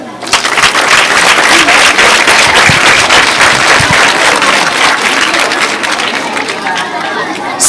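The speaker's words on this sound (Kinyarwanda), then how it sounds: "Abandi mwese mwabikoze neza, muratsinda, mwiha amashyi." A crowd of school children claps together in a dense, steady round of applause lasting several seconds, loud and close, with some chatter mixed in.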